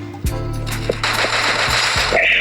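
Gunfire in the Free Fire shooting video game: rapid bursts of loud automatic shots, punchy and close, running almost continuously through the moment with no talk over them.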